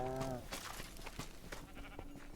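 Sheep bleating in Minecraft Dungeons, one short wavering bleat at the start, followed by game clicks and background effects.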